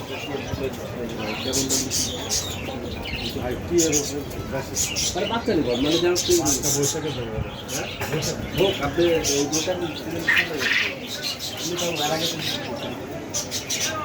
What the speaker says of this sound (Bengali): বিভিন্ন প্রকার পাখির দোকানে এসেছিলাম